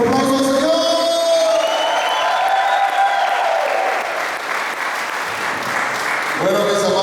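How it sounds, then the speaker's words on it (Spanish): A church retreat audience claps loudly and steadily for several seconds, with whoops and cheers rising from the crowd, and a voice calling out over the applause. "Un fuerte aplauso al Señor."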